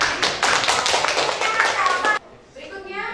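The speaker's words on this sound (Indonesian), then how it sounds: "Terima kasih Yudi, tepuk tangan." A classroom of students in a vocational computer-networking lesson claps for a classmate, a brief burst of brisk, close hand clapping that stops abruptly, followed by someone starting to talk.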